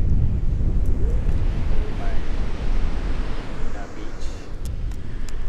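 Strong, chilly wind rumbles against the microphone on the Oregon coast, with a steady surf-like roar underneath, continuous and loud throughout.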